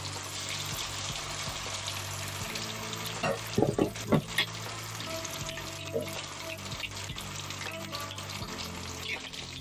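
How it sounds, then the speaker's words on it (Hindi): Chicken pieces slowly frying in a pan for chicken tikka biryani, a steady sizzle with brief clattering stirs near the middle, close and moderately loud, with a faint hum underneath and no talking. "इस तरह से आपने सारा चिकन आहिस्ता आहिस्ता सारा फ्राई कर लेना है"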